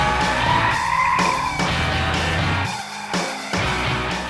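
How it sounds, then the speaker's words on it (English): A 2012 BMW M5 drifts hard around a track, tyres skidding and squealing loudly over a roaring engine that rises and dips with gear changes, heard from inside the car. "We drifted so hard, I thought I momentarily lost the sense of which way was actually forward."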